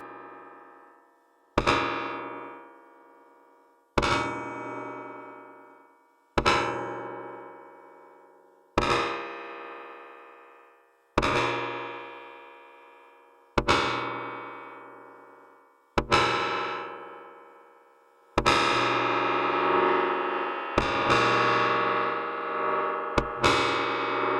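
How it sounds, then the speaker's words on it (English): A synth tone plays repeatedly through the reverse reverb of a Make Noise / Soundhack Erbe-Verb module, each note swelling in a reversed wash that cuts off abruptly; the last notes blur into a dense, continuous smeared texture. "The reverse reverb can be activated by knob or with control voltage."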